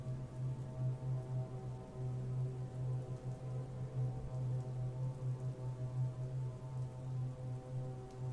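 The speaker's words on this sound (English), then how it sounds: "The rain, no?" Rain falls in a soft continuous patter beneath a steady low droning hum, moderately quiet and even throughout, ending in a sudden click; no one speaks.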